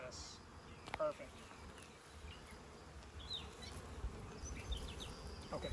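Honey bees buzz steadily at low volume around an opened hive during an inspection, a soft continuous drone with occasional louder passes, while people talk quietly nearby.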